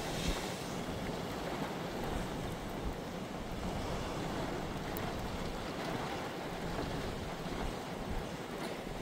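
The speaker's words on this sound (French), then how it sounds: "Là par contre quand les vagues s'écrasent" Storm surf from Storm Jana pounds the low rocky shore at Cap Couronne near Martigues, a continuous loud roar of breaking waves mixed with heavy wind buffeting the microphone, with no voices.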